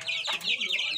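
Backyard hens clucking up close, a quick run of sharp, chattering calls, with faint human voices in the background.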